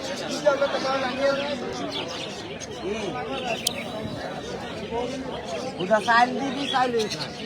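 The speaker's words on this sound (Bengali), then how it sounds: "আজকে আপনাদেরকে কবুতর দেখাবো" Pigeons coo at a busy bird market in Narsingdi, their soft calls rising over crowd babble and nearby people talking.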